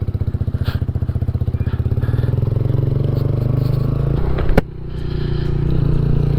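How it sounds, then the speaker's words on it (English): A motorcycle fitted with a cheap aftermarket Amazon exhaust pulls away down the road, its engine note pulsing rapidly and rising as it accelerates, with a sharp clack midway and wind rumble, heard close up without talk. "So you got them just a little Amazon exhaust, and yeah, it doesn't sound bad at all."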